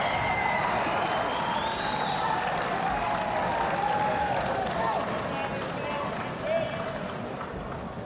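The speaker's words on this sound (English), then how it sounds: "Nice round of applause for Tom Tomio from Grove City as he went back to his seat after his victory." Audience applause at a wrestling match as a Grove City wrestler returns to his seat after a win, a steady wash of clapping from a crowd in a gym with a commentator talking over it throughout.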